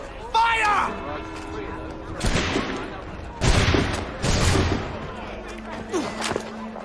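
A musket volley in Assassin's Creed III crackles out as several ragged bursts of gunfire, loud and close, with shouting voices around the shots.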